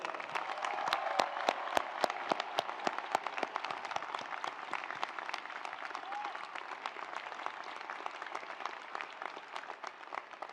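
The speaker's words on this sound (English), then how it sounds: "Let's give them another round of applause." A large graduation audience at Stanford applauds, with sharp, close individual claps standing out over a broad, fairly faint crowd wash that thins and settles over about ten seconds.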